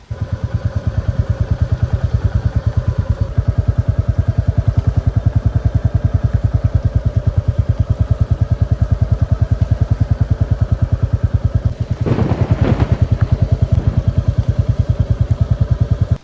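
A motorcycle engine throbs loudly and steadily throughout, with a brief rattling clatter partway through.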